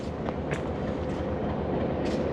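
A Durango/Silverton diesel train rolls into town, a faint, steady rumble of rail cars with a few light clanks, heard from a distance.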